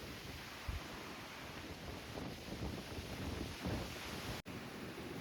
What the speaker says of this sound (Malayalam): ഇവിടെ കാറ്റ്, ശക്തമായ കാറ്റാ.